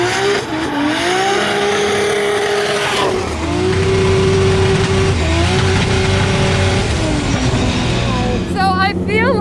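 A drift car on a Formula DRIFT wall ride run roars continuously with revving engine and squealing tires, loud and close, while a commentator talks over it.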